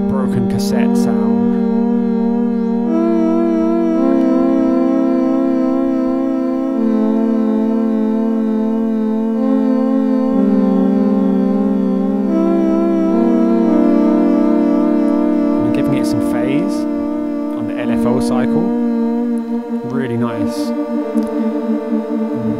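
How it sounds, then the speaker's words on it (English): A granular synth pad from Ableton Live's Granulator 2, with an LFO on the file position giving a warbling broken-cassette wobble; sustained droning tones slide between pitches, loud and continuous, with glitchy bursts toward the end. "I'm adding an LFO to the file position, so we get that kind of broken cassette sound"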